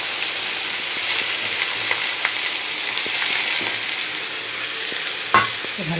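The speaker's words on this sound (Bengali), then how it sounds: "ভালো করে নেড়ে চেড়ে সবজিটা ভেজে দিই" Vegetables fry in mustard oil with a loud, steady hiss like rain, while stirring scrapes come through and one sharp knock of a utensil sounds near the end.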